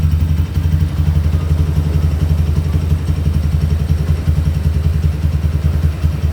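A Honda Tiger motorcycle engine with a carburetor runs steadily at idle nearby, a loud, even, throbbing thrum with slight mechanical clatter and no voices.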